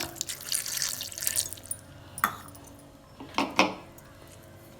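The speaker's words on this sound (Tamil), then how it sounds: "கொஞ்சமாக தண்ணி ஊற்றிக்கலாம், ரொம்ப தண்ணி ஊற்ற வேண்டாம்." A little water poured into a grinder jar holding garlic, onion and tomato for urad dal chutney, heard as a few faint, brief splashes and drips in a quiet kitchen.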